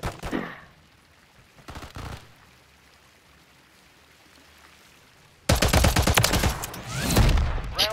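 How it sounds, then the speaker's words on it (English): Gunfire in a first-person shooter game's John Wick mode: a brief shot near the start, another burst around two seconds, then a loud dense volley of rapid shots at the end. "I heard a shot."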